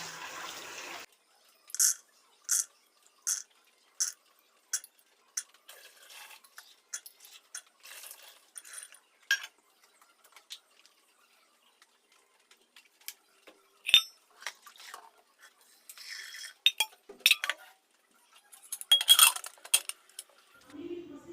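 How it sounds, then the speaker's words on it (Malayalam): Chickpeas are washed in a bowl, with scattered clinks and rattles coming in short bursts, separated by quiet gaps, and a few light splashy clusters near the end. "അപ്പോൾ ഞാൻ വൃത്തിക്കൊന്ന് ഈ കടല കഴുകി എടുക്കട്ടെ കേട്ടോ."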